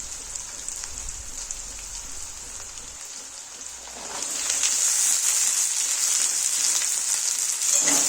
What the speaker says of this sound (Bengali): এগুলি হালকা ভাজা হলে প্রথমে কেটে রাখা আলু গাজর ও মটরশুঁটি দিয়ে দেবো